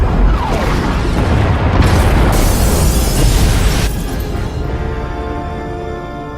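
Pod bays blow apart in the SWTOR sci-fi game: loud, sustained explosive booms and rumbling bursts fill the first four seconds, then ease into a lower, ringing rumble as the blasts fade.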